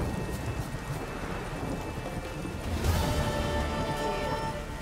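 Rain and a thunder rumble in The Witcher 3, steady hiss of rainfall throughout with a rolling thunderclap swelling about midway, no speech over it.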